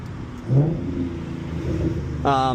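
A 2014 Ford Mustang with an automatic transmission downshifts, and a short throttle blip sends the engine revving sharply upward near the end, after a steady low engine drone.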